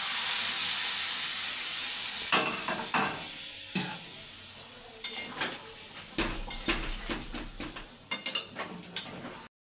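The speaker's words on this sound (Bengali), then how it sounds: "এবার এটার মধ্যে দিয়ে দেবো গরম জলটা" Hot water poured into a pan of cooking aloo dum, with a loud steamy hiss at first, then a run of metal spoon clatters and scrapes against the pot.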